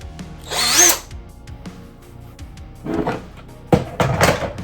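A power drill unscrews fasteners to open a cheap console housing, three short whirring bursts separated by pauses with small handling clicks, close and loud, no talking.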